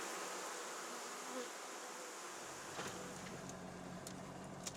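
Steady buzzing of a bee swarm, fairly faint, continuous with a few light knocks and rustles.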